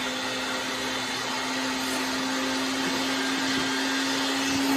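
A blender purees food at full speed, a loud, steady motor whine with a strong hum that runs unbroken throughout.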